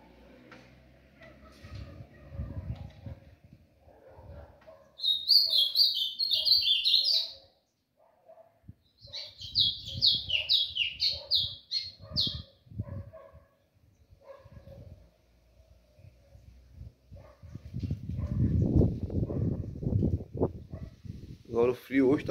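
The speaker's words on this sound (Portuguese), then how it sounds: "um vídeo só pra mostrar a vocês um pouco dos passarinhos cantando" Small songbirds, a golinha and an azulão kept as caged birds outdoors on a cold, windy day, sing in two bright warbling bursts of rapid notes, close by, alternating with low rumbling handling noise and background sounds.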